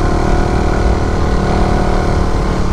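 A Suzuki Raider 150 FI 2022 motorcycle engine strains loudly while climbing uphill, a dense, steady, close-up roar with constant rough mechanical texture throughout.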